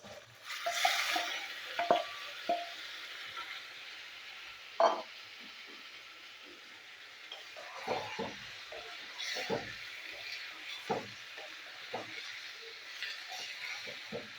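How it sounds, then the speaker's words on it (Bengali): Marinated chicken with onion and garlic fries quietly in a pan, a faint sizzle underneath scattered soft clatters and scrapes of stirring. "তো এবার আমি পেঁয়াজের সাথে মাংসটা ভেজে নেবো একটু।"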